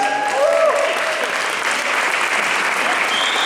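A crowd in a church claps loudly and steadily for a few seconds, dense applause filling the room without pause.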